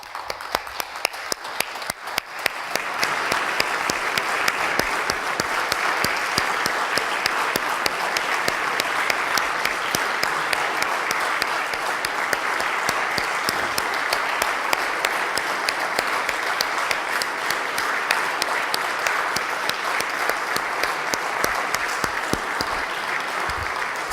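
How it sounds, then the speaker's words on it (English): Sustained applause fills a Connecticut State Senate chamber during a farewell tribute, a dense, steady wash of many hands clapping that holds evenly for over twenty seconds without pause. "we're going to clap first"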